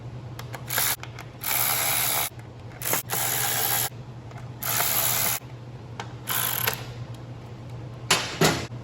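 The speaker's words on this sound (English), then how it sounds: "always make sure you screw them all in a little bit before you tighten them up" A ratchet clicks in several rapid bursts, each lasting about a second, as screws are tightened on the carburetor of a Honda EM6500 generator that will not start. A low hum runs underneath, with short pauses between bursts.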